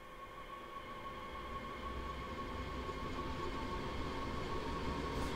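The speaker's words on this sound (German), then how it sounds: "Versuchen Sie nun, den Zug ohne Anleitung zum nächsten Bahnhof zu fahren." Steady rumble of a train running along the Rhine-Ruhr main line between Duisburg and Bochum in Train Sim World 2, with continuous wheel and motor drone and faint tonal hum, constant and close throughout.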